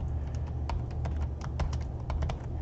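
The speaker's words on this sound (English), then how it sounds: "if you start typing it exactly" Typing on a computer keyboard while entering a layer name in the Construct game editor: a steady run of light, close key clicks at an irregular rhythm over a low background hum, with no talking.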